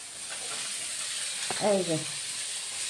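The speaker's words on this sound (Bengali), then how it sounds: "এই যে মাছ ভাজা হচ্ছে" Small fish fry in a pan with a faint, steady hiss and sizzle heard from a short distance, and a brief voice cuts in partway through.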